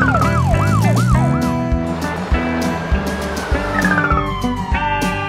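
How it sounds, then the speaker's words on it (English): South Korean police car siren close by, starting with quick repeated warbling whoops that give way to a long descending wail, over rumbling traffic and passing vehicle noise. "South Korea, police car."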